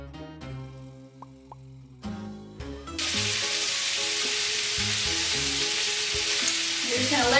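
Hot dogs frying in a pan for Mexican-style street-food perros calientes, opening with a few clinks and plops before a loud, steady sizzle takes over and holds close up, with no talking.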